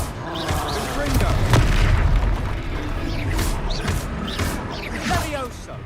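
Confringo spell explosions in the Hogwarts Legacy video game, repeated booming blasts and crackling pops mixed under an excited voice talking over the action.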